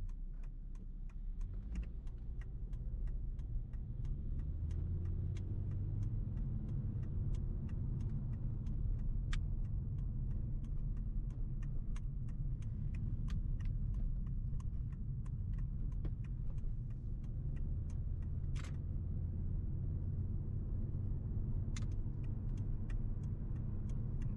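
A Volvo C70 on a test drive gives a steady, muted cabin hum of engine and road noise, with faint scattered clicks and rattles and no talk.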